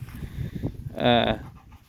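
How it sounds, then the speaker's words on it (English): An outdoor dog in its backyard pen gives a short burst of whimpering and panting in the middle, close by, with faint background sound before and after. "there's our outside dog"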